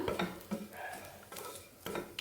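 Grated coconut with coriander powder frying in a pan for a kumbalanga curry: light stirring and spoon-against-pan scrapes come in bursts over a faint sizzle, close and fairly quiet.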